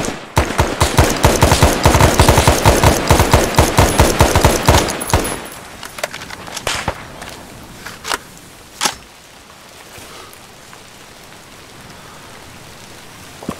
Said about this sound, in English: Got shots fired distant southeast.